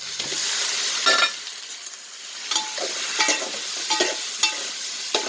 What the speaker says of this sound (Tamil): வெந்தயம் கடுகு நல்லா பொரியட்டும் வெங்காயம் கருவாடு சேர்த்துடலாம்